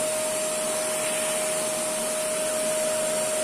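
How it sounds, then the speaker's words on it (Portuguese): Household vacuum cleaner running in a home, a loud steady whine and rushing airflow with a constant high tone, continuous and alone. "O aspirador é muito mais prático."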